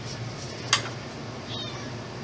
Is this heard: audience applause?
no